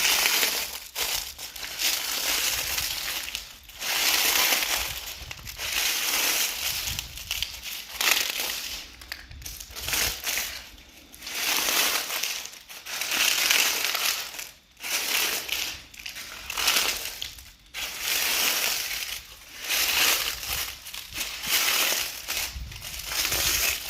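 Dry fallen leaves crunch and crackle underfoot outdoors in a long series of loud, close bursts as someone stomps and shuffles through them. Brief pauses fall between the bursts.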